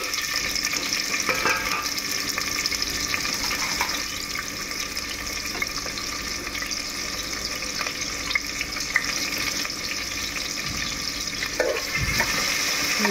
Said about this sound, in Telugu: ఆనియన్స్ వేసేస్తున్నాను.